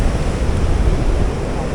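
Steady broadband roar of sea surf at Da Nang beach in Vietnam, close and continuous with wind buffeting the microphone and no clear breaks between waves.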